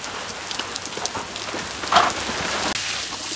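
Water sprays and patters steadily onto farm plant leaves, a soft continuous shower with scattered droplet taps and a brief stronger gush.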